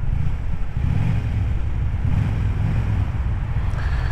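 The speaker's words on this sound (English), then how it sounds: "There's just something childishly fun about revving your bike when you go through a tunnel." Motorcycle engine revving inside a road tunnel, a loud, steady low rumble sustained throughout with boomy echo and wind buffeting on the microphone.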